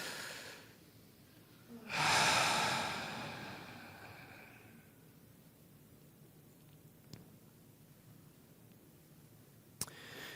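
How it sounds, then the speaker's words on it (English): A single deep breath drawn in and released around the two-second mark, a loud, airy rush that fades slowly into quiet room tone, followed later by a couple of faint clicks. "Take a breath with me right now."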